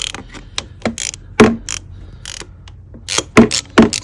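A hand ratchet works a 10 millimeter fastener loose on a Lexus RX 300, giving sharp clicking bursts in irregular groups, some louder pulls between quieter ticks, close up with no voices.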